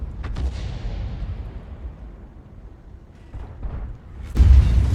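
Heavy tank artillery fire in a World of Tanks-style battle involving a Lorraine 155 mle. 51 and an SU-152: a near, loud booming shot opens, rolling rumble follows, then a second big blast lands at the end.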